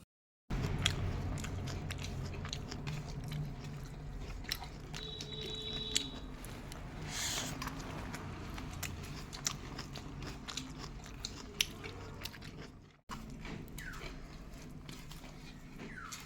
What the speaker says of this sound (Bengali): তো প্রথমে মূলো শাক দিয়ে খাওয়াটা শুরু করেছিলাম